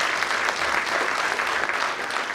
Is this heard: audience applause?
yes